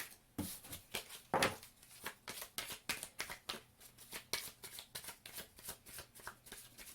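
A tarot deck is shuffled by hand, with a quick run of soft, riffling card flicks and papery taps that stay fairly close and quiet, and no voices.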